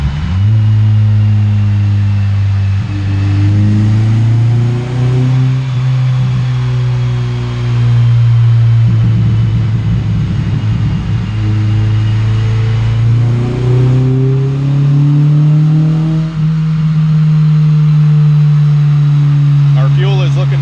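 The all-motor B20 engine in a Honda CR-V revs hard during a third-gear dyno pull, a loud, sustained drone that climbs steadily in pitch. There is a brief dip in the middle, and voices are partly audible under the engine.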